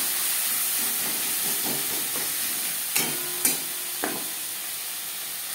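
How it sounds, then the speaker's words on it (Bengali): Chopped onion hits hot oil previously used to fry bhetki fish, giving a steady, close sizzling hiss that fills the pan, with a few light clinks from stirring. "মাছ ভেজে নেওয়া তেলে দিয়ে দেব একটা পেঁয়াজ, যেটা আমি কুচি করে কেটে নিয়েছি"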